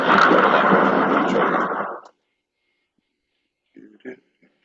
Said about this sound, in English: That was the sound of thunder clouds.